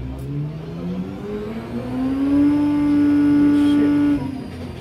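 A motorcycle on a dyno during a calibrating run, its engine revving up and holding a steady high whine for a couple of seconds before cutting off, close and loud.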